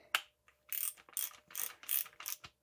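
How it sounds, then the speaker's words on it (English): A ratchet tightens a Rockshox SID Ultimate 32 suspension fork during a full service, making about five quick, close clicking strokes after a sharp initial tick. "we grab our ratchet"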